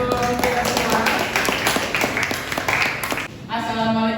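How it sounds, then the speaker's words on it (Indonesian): Audience clapping in a classroom presentation session, an irregular patter of hands from a small group lasting a few seconds, moderate and close, fading as talk begins. "Tepuk tangan untuk kita semua."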